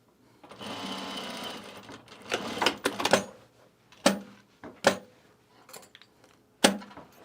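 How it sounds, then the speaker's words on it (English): A sewing machine winds a bobbin with a steady whirring run, then a series of sharp mechanical clacks and thumps at uneven intervals, close and fairly loud, with no voices. "right now I'm winding a bobbin"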